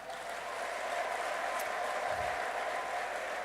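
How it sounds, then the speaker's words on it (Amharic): A church congregation clapping steadily, a dense even wash of applause filling the room throughout without pause. "እስቲ በደንብ ጭብጨባችሁን ጨምሩለት።"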